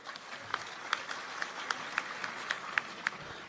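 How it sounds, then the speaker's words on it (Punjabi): A crowd at a protest sit-in in Goneana claps for the media present, a moderate, somewhat thin round of applause with individual sharp claps standing out at a quick, uneven pace, heard from nearby. "ਆ ਜਿੰਨਾ ਮੀਡੀਆ ਇੱਥੇ ਖੜਾ ਇਹਨਾਂ ਲਈ ਤਾੜੀਆਂ ਹੋ ਜਾਣ ਇੱਕ ਵਾਰੀ"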